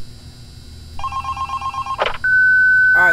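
A telephone in the video game Five Nights at Candy's rings with a steady electronic trill, then a short burst of noise, then a sustained tone, loud and clear with no talk.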